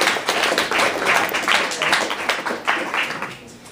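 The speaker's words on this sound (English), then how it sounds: "So give a round of applause." Audience applause following a Journal Club talk on reptiles and parthenogenesis, a steady wash of many hands clapping for nearly four seconds, fairly close and loud, tapering slightly at the end with no talk over it.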